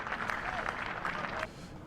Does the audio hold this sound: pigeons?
no